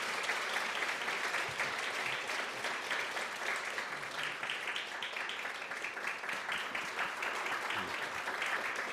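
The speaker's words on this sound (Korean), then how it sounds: "위로 박수 한번 합시다" Sustained applause from a church congregation during a Sunday worship service, dense even clapping from many people heard at a moderate distance, running for about nine seconds with no speech over it.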